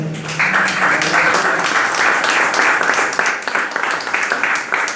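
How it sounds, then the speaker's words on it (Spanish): A church congregation claps together during a sermon, producing a loud, steady wash of applause that continues throughout with no let-up, with a brief voice at the start. "Denle aplausos al Señor."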